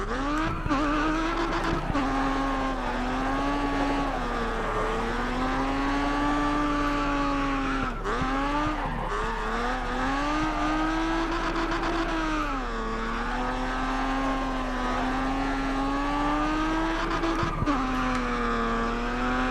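Ford Mustang GT Fastback, a 419-horsepower car, racing in the video game GRID Autosport: a steady, loud engine drone whose pitch rises and falls through gear shifts, with brief tire squeals along the way.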